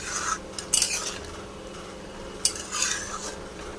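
Mushroom curry with garam masala is stirred in a pan, with a faint sizzle under a few sharp scrapes and clinks of a metal spoon against the pan, two of them clearly louder, close by and without speech.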